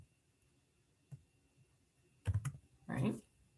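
Calculator keypad presses while entering a function for an area-between-curves problem: a lone faint tap, then two short clusters of close, clicky key presses with no talking.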